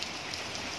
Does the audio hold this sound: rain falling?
yes